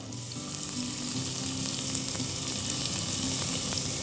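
Sliced tomatoes with grated ginger and salt fry in a pan, producing a steady, close, loud sizzle that continues without pause and with no voices.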